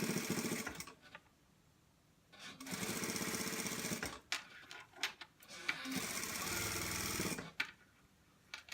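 A sewing machine stitches seams on an A-line dress in loud bursts of rapid mechanical whirring, several runs of a second or more separated by short quiet pauses, with no talking.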